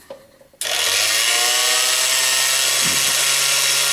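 A power saw slices through a brass cartridge case during a 300 Blackout conversion, starting after a brief quiet moment and then grinding loudly and steadily for several seconds, with a short dip in pitch partway through.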